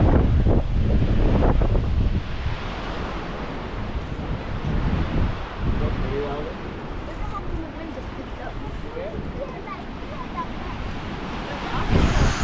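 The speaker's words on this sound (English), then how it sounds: "that's the gush of wind which is making it like go sideways" Wind gusts through the deep Gibbon River valley in Yellowstone, a loud blustery roar buffeting the microphone, strongest at the start and returning near the end, with a voice speaking intermittently over it.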